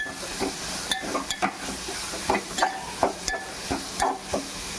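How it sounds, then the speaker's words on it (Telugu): Ginger, shallot and coconut paste frying in a pan, with a steady hiss and sizzle broken by repeated stirring scrapes at a regular pace, close by. "ఇది కూడా పచ్చివాసన పోయేదాకా ఫ్రై చేసుకుందాం."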